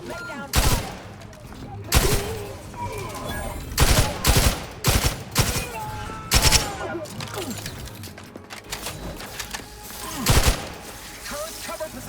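Gunfire erupts in a combat firefight in The Outer Worlds 2, repeated loud bursts and single shots spread across the scene, close and punchy, with game voices calling out between them.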